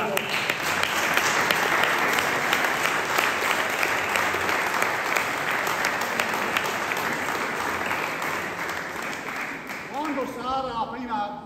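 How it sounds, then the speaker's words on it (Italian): An audience at an opera singing masterclass applauds in a dense, steady wash of clapping that slowly tapers off. A voice speaks as it fades. "facciamo un applauso."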